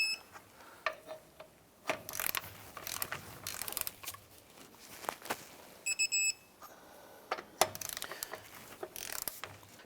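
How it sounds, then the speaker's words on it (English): Torque wrench tightening lug nuts on the rear wheel of a 2003-2012 Chevy Colorado, giving a few sharp metallic clicks and ratcheting bursts spaced across the stretch amid light workshop clatter, with no talking. "I'm going to go ahead and torque the lug nuts down to 103 foot-pounds."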